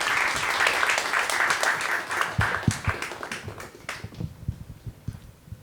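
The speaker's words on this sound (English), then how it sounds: "please clap again" A presentation audience applauds, loud dense clapping at first that thins into scattered individual claps and fades out.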